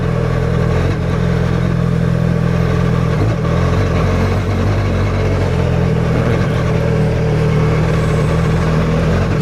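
A big off-road motorcycle pulls up a climb in second gear on dirt-bike terrain, its engine droning steadily and loudly at a low, even pitch throughout with no break.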